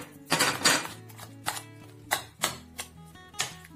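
Spoon clinking against a bowl or pan while pepper paste and tomato paste are stirred into minced lahmacun vegetables, a series of sharp close taps and scrapes in uneven rhythm.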